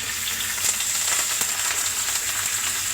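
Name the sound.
mustard seeds, cumin, curry leaves sizzling in oil and butter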